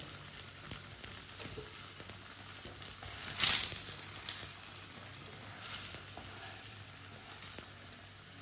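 A paratha fries in oil on a pan with a steady low sizzle, and a sharper hissing surge briefly mid-way before settling back to a gentle crackle.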